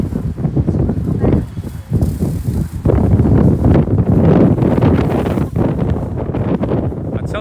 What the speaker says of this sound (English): You can hear how windy it is.